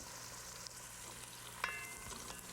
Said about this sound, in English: I'm gonna cook these onions and these celery until they're clear